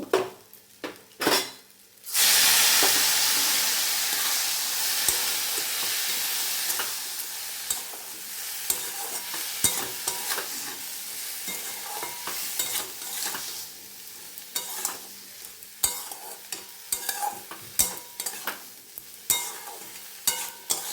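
Ground spice powder for samosa filling sautéed with a splash of water in a pan: a loud sizzling burst erupts, then settles into steady frying with repeated scraping and stirring clinks of a utensil against the pan, no talking.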